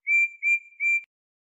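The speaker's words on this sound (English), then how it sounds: "He blew his whistle" Three short, bright steam locomotive whistle toots in quick succession, each a steady clear tone, evenly spaced and fairly loud, then silence.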